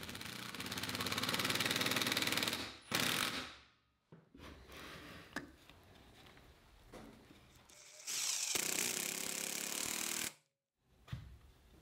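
A handheld drill drives 3.5-inch screws to attach a wooden bench brace to a leg, loud whirring bursts with brief pauses between them, close by and alone.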